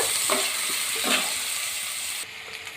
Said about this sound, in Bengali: তো এখন ভালো করে দেখুন পেঁয়াজটা পুরোপুরি ভাজা হয়ে গেছে